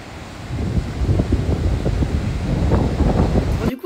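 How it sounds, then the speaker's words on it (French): Strong wind buffets the microphone with a constant low roaring rumble, loud and close, with no voices heard, at a surf spot at Anse Charpentier, Martinique. "je pense que vous avez entendu au micro qu'il y a énormément de vent"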